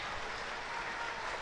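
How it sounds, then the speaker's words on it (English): A cricket crowd at a Hampshire Hawks versus Somerset T20 Blast match applauds and cheers a single, a brief, steady wash of distant clapping. "Crowd cheering, applauding every single, because it's only a single."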